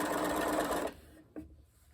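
A sewing machine stitches fabric for a doll's school dress, running steadily and loudly for about a second before stopping. Faint handling sounds follow.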